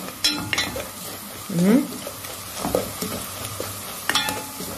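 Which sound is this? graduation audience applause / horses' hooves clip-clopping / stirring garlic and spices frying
stirring garlic and spices frying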